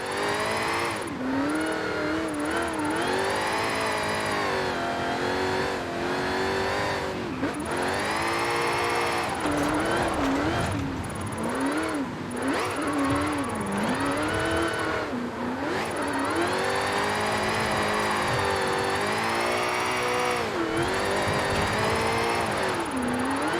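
Electric Ford Mustang Mach-E 1400 drift car in Forza Horizon 5 whines loudly and steadily throughout, its pitch rising and falling with each slide and throttle change, without any talking.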